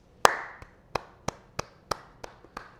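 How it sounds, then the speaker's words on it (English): Hands clapping out a steady rhythm at a piano lesson, eight crisp claps spaced evenly about a third of a second apart, close and clear with no talking. "I might forget about the notes and just try to clap out the rhythm like this"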